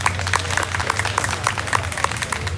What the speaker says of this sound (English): Please, ladies and gentlemen, you give a round of applause again.